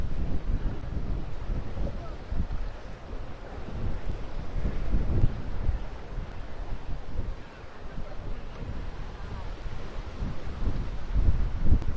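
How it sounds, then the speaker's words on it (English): Gusty wind buffets a microphone at a beachside spot on North Beach, Maryland, a continuous low rumbling roar rising and falling in strength throughout. "It's windy."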